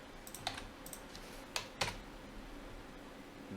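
A few sparse computer keyboard keystrokes while code is typed, quiet crisp clicks in small clusters over a faint steady background hum, with no talk.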